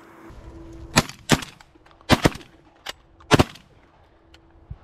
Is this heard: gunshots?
yes